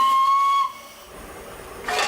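A newly built Class A1 steam locomotive sounds a loud, steady whistle lasting just over half a second, followed by a softer wash of hissing steam and a short burst of louder steam at the end.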